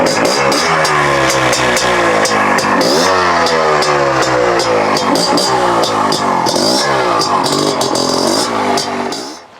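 A Beta TR34 trials motorcycle engine revs hard and close, rising and falling in repeated throttle blips over a steady buzzing idle, loud and alone with no talking.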